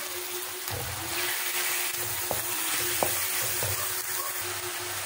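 Chicken pieces frying in a hot pan for a spicy chicken kadai, a steady low sizzle with a few sharp scrapes and clacks from stirring, continuous and close with no voices.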